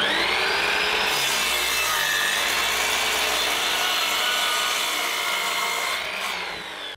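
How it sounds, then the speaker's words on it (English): Dense, continuous hand-sawing through an old wooden board roughly 200 years old, cut to about 110 centimetres, loud and close with steady rasping strokes that fade out near the end. "measure the size and cut it to the size"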